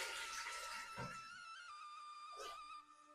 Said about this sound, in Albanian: shtojna ujë derisa të mbulohet niveli i miqit